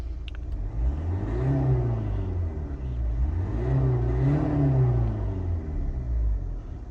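A 2012 Renault Megane 3 GT-Line with a 1.5 dCi 81 kW diesel is revved twice while stationary, each rise a swelling, throaty drone that climbs and falls back, with steady turbo-laden rumble throughout.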